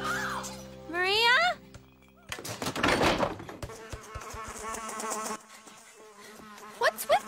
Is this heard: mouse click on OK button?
no